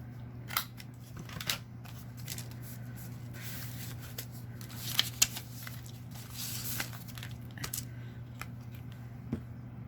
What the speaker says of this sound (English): Cut the edges off.